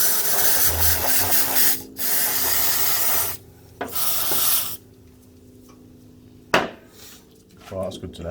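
Scraper rubbing and rasping an old soaked gasket off a Suzuki DR200 engine during clutch replacement, harsh scraping strokes in bursts separated by pauses, close and fairly loud, with a sharp clink midway.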